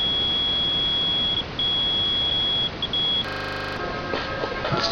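A multimeter on continuity mode beeps while probing a car stereo circuit board, a thin steady tone that cuts in and out in short breaks, then a brief harsher buzz near the end.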